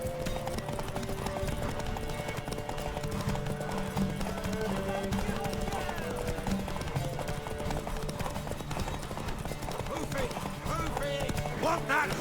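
Horse hooves clip-clop steadily through The Witcher 3, a continuous trotting rhythm under game music, with a whinny and spoken dialogue mixed in.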